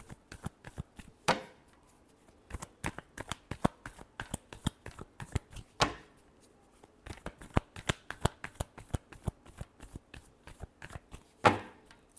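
A deck of tarot cards being shuffled by hand, in repeated bursts of quick riffling flicks separated by brief pauses, close and crisp with no talking.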